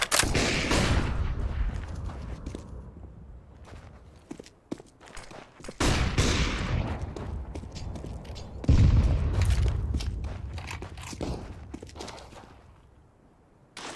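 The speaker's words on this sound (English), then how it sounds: "Deploying flashbang" A flashbang grenade in a video game bursts with a loud, sharp blast that rings away, amid further heavy booms, gunfire and footsteps in a close, chaotic firefight.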